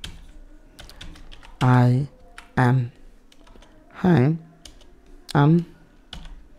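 Code being typed on a computer keyboard during an HTML lesson, with quick clustered key clicks in short bursts, close and clear, broken by a man's brief spoken words.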